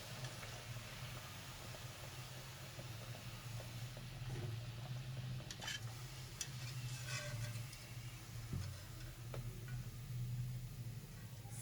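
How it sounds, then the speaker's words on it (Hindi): Sweet tikiyan frying in very hot ghee give a steady, close, soft hiss, dotted with small popping ticks and a low hum underneath, with no talking. "सारी टिक्कियाँ हम ऐसे फ्राई कर लेंगे।"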